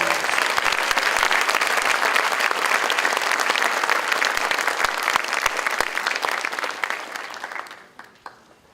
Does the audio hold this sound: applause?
yes